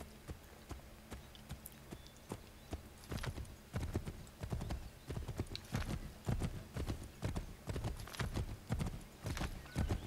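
Horse hooves clop in a quick, uneven galloping rhythm across the ground in Assassin's Creed 3, close and continuous, with an occasional whinny and no talk over it.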